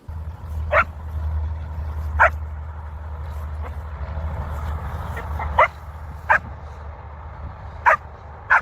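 During a bark-on-command training session, a dog gives about eight short, sharp barks at uneven intervals, separated by quiet gaps, over a steady low rumble.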